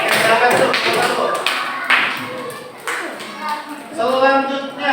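A fifth-grade coding class applauds group 1 with bursts of clapping that rise and fall in waves, with a teacher's voice speaking over and between the claps.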